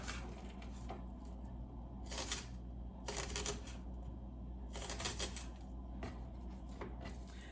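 A knife chops onions on a cutting board for a vegan quiche, producing quick bursts of rapid close tapping separated by pauses over a steady low background hum.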